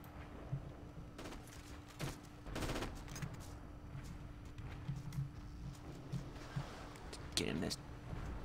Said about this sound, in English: You must lay down to dock to deploy and fire this light machine gun.